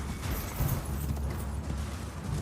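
Galloping horse in the video game Elden Ring, a steady clip-clop rhythm of hooves pounding close and loud over a dense low rumble of game sound, with no talking.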